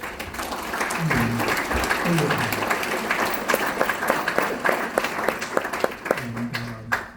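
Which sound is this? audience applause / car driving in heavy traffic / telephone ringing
audience applause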